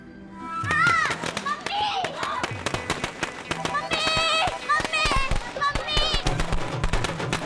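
Firecrackers popping in rapid, irregular bursts of sharp cracks, loud and close, mixed with children's voices and shouting throughout.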